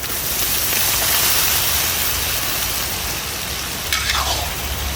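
Lamb testicles sizzle as they drop into hot frying masala for a thecha fry, a loud steady hiss and crackle throughout, with a fresh burst of spitting sizzle near the end.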